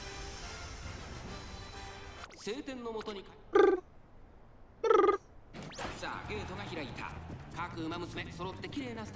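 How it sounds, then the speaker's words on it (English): A pet cat called Mickey lets out two loud, short meows a second or so apart, set among a person talking and other indoor background noise. "What up, Mickey? Why are you meowing like that?"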